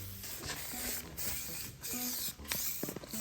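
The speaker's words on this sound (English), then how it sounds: "Let's spray this." Primer sprayed from an aerosol can onto an aftermarket Audi RS4 B6 rear spoiler, giving steady close hissing bursts broken by short pauses and a few faint clicks and rattles.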